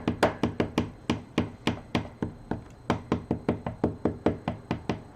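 Bent laptop cooling fan for an HP 250 G5 knocking in a steady, fast rhythm, about four sharp woody taps per second, close and fairly clear with nothing else over it.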